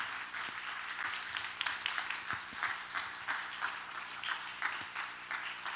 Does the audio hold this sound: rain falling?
no